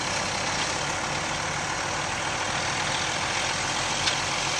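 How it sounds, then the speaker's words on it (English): A New Holland TT60 FWA 60-horsepower front-wheel-assist tractor runs steadily outdoors with a constant, moderately loud engine rumble and no change in rhythm, and no one speaks. "Here's a nice little New Holland tractor."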